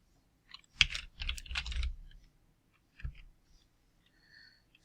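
Someone types on a computer keyboard while writing an HTML file in the Sublime Text editor, with quick bursts of close, crisp key clicks separated by short pauses.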